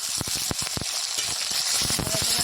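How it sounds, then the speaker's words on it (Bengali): Chopped tomato goes into a hot frying pan while cooking suji upma, raising a bright sizzle broken by sharp clatters of a spoon stirring against the pan. "দিয়ে দেবো টমেটো কুচি"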